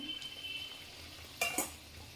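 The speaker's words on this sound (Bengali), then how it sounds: "উল্টো দিকটা উল্টে দিচ্ছি, একটু ভাজা হয়ে গেলে তুলে নিচ্ছি।" Potato kachori frying in oil gives a soft, steady sizzle, and two quick scraping clinks sound close by as it is turned over.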